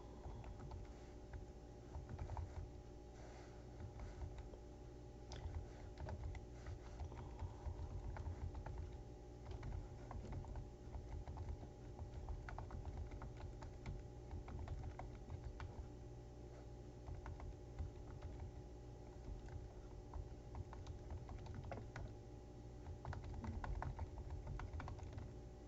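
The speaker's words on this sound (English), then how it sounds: "Now, we're finally going to type one of the first paragraphs." Steady, quiet clicking of typing on a computer keyboard, continuous keystrokes with brief pauses over a faint low hum, no voices.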